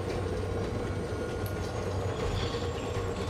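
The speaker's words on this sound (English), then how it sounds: "Now I got the train moving." A train rolls along in a dark sci-fi survival game set in space, with a steady, loud rumbling mechanical roar and rail clatter that stays continuous and close throughout, with no talk over it.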